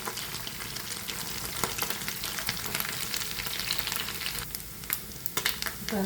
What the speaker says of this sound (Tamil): நல்ல வடிவாக பொரிஞ்சு கொண்டிருக்குது